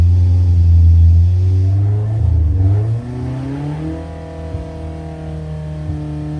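A car engine on a dynamometer revs up loudly at close range with a slight misfire, the pitch climbing and dipping as it pulls hard at wide open throttle, then settles into a steady rising drone.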